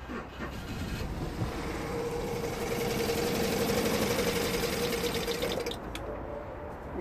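A BMW E90 320i idles roughly with a lumpy, uneven engine note, heard close and continuous with a rattly mechanical texture throughout.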